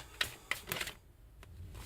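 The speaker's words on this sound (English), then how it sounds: "All right, one more shuffle." A few quick riffling clicks and snaps of cards being shuffled, close by and fairly quiet, with no voices.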